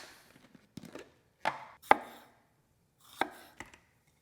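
A Cuisinart food chopper chops tomatoes in a few short, sharp pulsed bursts separated by pauses, close and fairly loud, with no talking.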